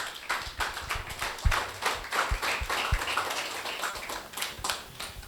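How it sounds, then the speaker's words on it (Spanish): Scattered, rhythmic hand clapping from a church congregation during a Spanish-language sermon, moderately faint, with sharp individual claps standing out over a steady patter. "Dale un aplauso a Jesús."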